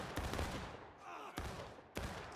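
Musket fire in the Civil War game War of Rights, three sharp separate shots spaced apart, each a loud crack with a short echoing tail, against a murky battlefield background.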